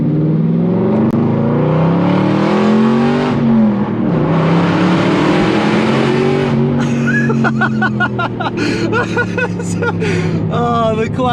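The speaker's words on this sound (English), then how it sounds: "This V8 engine just sounds incredible, and this VelocityAP exhaust just opens it up and lets it sing." An Aston Martin V8 Vantage with a VelocityAP exhaust revs hard inside a tunnel, the engine note rising and falling through loud sustained pulls, then sharp crackling pops and bursts echoing off the walls.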